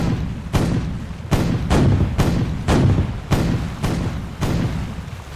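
Ship cannons aboard a brig sloop in a 1793 naval sailing game fire a salvo of about eight deep booming shots in quick irregular succession, each with a short rumbling decay, loud and close with no talking.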